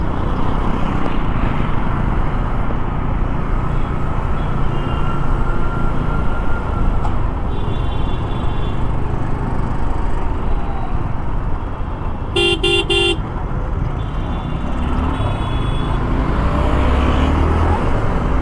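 Dense road traffic rolls along the Old Pune highway in a continuous loud roar of engines and tyres heard from a moving motorbike, with several short horn toots cutting through partway along.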